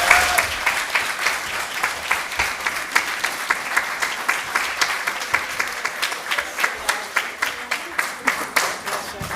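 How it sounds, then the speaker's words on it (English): Audience at a village board meeting applauds, a dense, even round of clapping that carries steadily throughout without talk. "So let's give them a round of applause."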